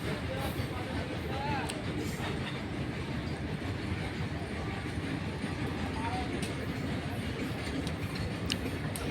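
An electric goods train rolls past in a steady, dense rumble with faint rhythmic clicks from the wheels, heard from nearby and holding an even loudness throughout.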